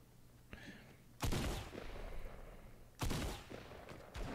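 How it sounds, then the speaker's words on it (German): Gunfire from above in a Fortnite match: two loud bursts of shots a couple of seconds apart, each trailing off into echoing rattle, with a fainter pop between them and a third burst starting at the end. "Okay, ich wurde von oben beschossen."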